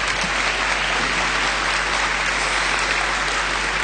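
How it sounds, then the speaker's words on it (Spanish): A church congregation claps for the children in a steady, dense round of applause that holds evenly throughout. "Démosle un fuerte aplauso a los chicos."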